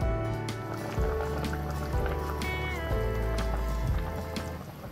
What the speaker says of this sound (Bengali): এবার যে পরিবারে যেরকম ঝোল খাবে সেরকম অনুযায়ী গরম জল দিয়ে নিও